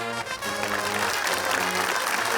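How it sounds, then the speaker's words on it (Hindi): A studio audience on a comedy quiz show bursts into lively applause, a full, sustained clatter of many hands with some faint tonal sound beneath. "तालियां।"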